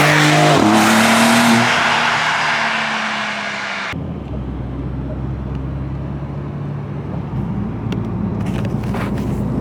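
A base Porsche 992 Carrera 911 accelerates hard, its engine note rising loud and close before dropping away at a gear change, then settling into a quieter, steady drone.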